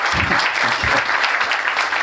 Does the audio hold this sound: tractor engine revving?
no